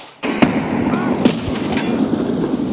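A grenade explodes in a first-person shooter game as a single sharp close blast, followed by continuous low rumbling background noise.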